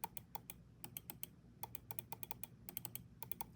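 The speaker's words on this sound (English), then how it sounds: "So the clicks on this are actually very loud," Clicks from a Logitech G Pro X Superlight 2 mouse: a quick, irregular run of sharp, close ticks over a low background hum, fairly quiet overall with no talking.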